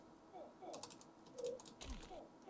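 Quick, soft keystrokes on a computer keyboard during a gaming session, scattered in small bursts of clicks, faint and close, with a quiet voice murmuring underneath.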